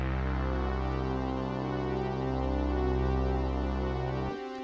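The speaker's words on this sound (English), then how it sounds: "the idea behind being able to play the bass and the lead would be something like this." A synthesizer in Bitwig plays a steady, sustained bass line with an arpeggiated lead layered on top from one instrument, holding rich tones at an even level before stopping abruptly near the end.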